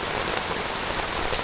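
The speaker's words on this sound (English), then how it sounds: "Another downside to camping, rain." Steady rain drums on a tent at a camping spot during a motorbike trip, a dense, even patter that stays close and constant throughout with no voices.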